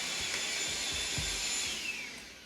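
Vacuum cleaner droning steadily in the background of a home kitchen, a continuous whine and rushing hum that fades slightly toward the end.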